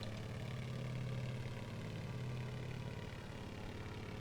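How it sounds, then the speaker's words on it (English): A propeller aircraft engine in a flight simulator game drones steadily with a low humming tone that eases slightly lower as it slows, alone and continuous throughout. "We're gonna slow down our propeller and that a bit."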